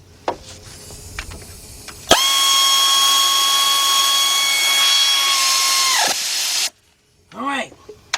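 A power tool whines steadily for about four seconds while tightening a bolt during a timing belt and water pump job on an Acura SLX, Honda Passport or Isuzu Rodeo, with faint shop noises before it and a brief squeal after.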